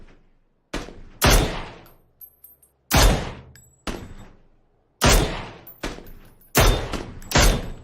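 Loud, close bursts of gunfire in a squad-based video game, a handful of sharp volleys with brief gaps and fading echoes between them.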